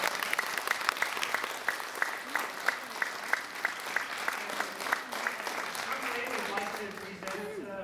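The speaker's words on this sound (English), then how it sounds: "let's give a round of applause" Applause from a seminar audience for the speakers, made up of rhythmic, fairly sparse clapping at moderate distance with a voice talking over it toward the end.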